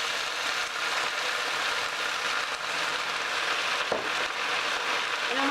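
Balsamic vinegar sizzles in a hot pan of greens, a steady loud hiss like rain that fills the whole stretch, with a brief clatter near the end.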